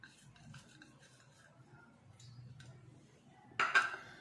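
Spiced pakora batter with coriander being stirred in a bowl, soft scraping and clinking through most of the stretch, ending in a louder clatter of a utensil against the dish.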